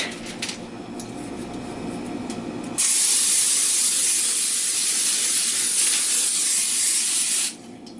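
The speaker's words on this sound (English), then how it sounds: "And then we're going to spray the parchment paper" Nonstick cooking spray hisses onto parchment paper in a steady, loud burst lasting several seconds, preceded by quieter kitchen rustling and ending abruptly.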